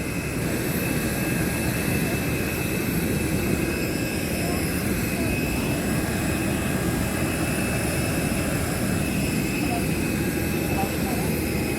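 Steady, loud roar of an airplane engine, continuous and unchanging, with a dense rumble and faint high tones.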